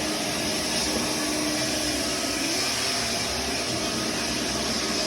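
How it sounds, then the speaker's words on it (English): A floor scrubber runs on glossy porcelain tiles with its brush and vacuum both on, giving a loud, steady roaring whine that holds at constant level throughout, with no speech. "You can turn on the brush and the vacuum at the same time."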